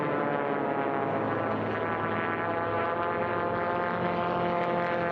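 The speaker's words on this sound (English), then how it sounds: "Josh Watson has that aircraft up on the wing going around pylons 1, 2, and 3." A Formula One class air race plane banks around pylons on a 3.5-mile course, its engine giving a steady, loud, continuous drone with a buzzing tone throughout, no voices.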